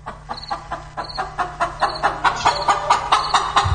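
Chicken clucking in a steady run of short, repeated calls, close and fairly loud, with a low background hum beneath and no talk.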